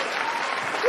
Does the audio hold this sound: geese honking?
no